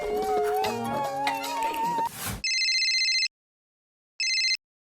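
Music cuts off, then a phone ringback tone sounds twice, each a steady electronic ring followed by silence.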